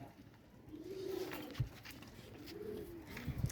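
Pigeons coo softly in low, rolling calls, two or three coos in a row, fairly quiet and with no talking, at a pigeon farm.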